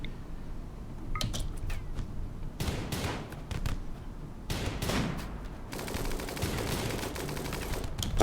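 Rapid saturation gunfire in the colony game RimWorld, several sharp bursts of automatic fire separated by brief gaps, then a dense continuous volley, at moderate loudness with no talk.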